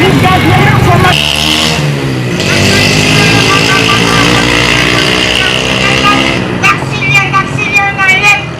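A motorcycle engine revving hard and steadily for several seconds, loud and close, rising in pitch and then dropping back, with outdoor street noise and chatter toward the end.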